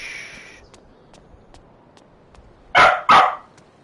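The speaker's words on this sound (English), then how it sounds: "Somewhere, there's a dog I need to pet." Two sharp, loud dog barks close by in the video game Life is Strange: True Colors, coming after a faint tone and near silence, with a short gap between them.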